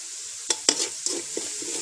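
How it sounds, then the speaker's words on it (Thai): Frogs stir-fried with basil leaves in a pan: close, quick scraping stirs over a continuous hot sizzle, with several sharp clacks of the utensil, no speech. "ผัดให้เครื่องหอม"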